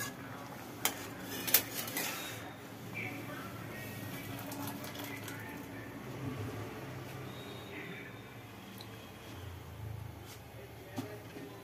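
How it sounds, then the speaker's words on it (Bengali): A kadai goes onto a home kitchen stove during vegetarian cooking, with a couple of sharp metallic clanks early on over low, steady utensil clatter. "কড়াই চাপলো, কড়াই পড়লো, সর্ষের তেল"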